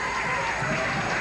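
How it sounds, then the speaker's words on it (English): A 1989 high school basketball crowd between Wesclin and Highland fills the stands with a dense, steady roar of murmuring and cheering, heard briefly and continuously up close. "we're not responsible for any of the noises you hear from the crowd down below"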